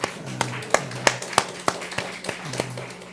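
Sparse, uneven hand claps from a church congregation welcoming three new members at a Sunday service, about nine distinct claps spread over a few seconds rather than a full round of applause.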